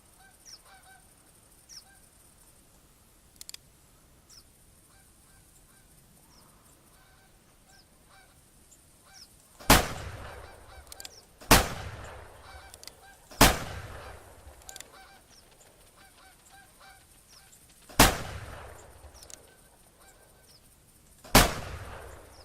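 Geese honk repeatedly in a video game goose hunt, scattered calls at first, then several sharp loud gunshot-like bangs cut through at intervals in the second half; no talking.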